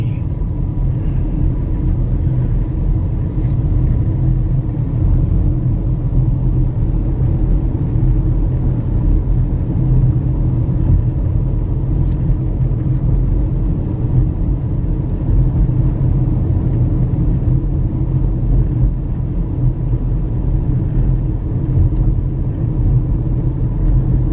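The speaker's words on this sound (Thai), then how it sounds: "ลองขับเข้าไปเรื่อยๆดูก่อนนะครับว่าข้างในมันจะเป็นยังไง" A car drives steadily along a road near Uthai Thani, Thailand, producing a continuous, even low rumble of engine and tyres from the cabin for the whole stretch, with no voices.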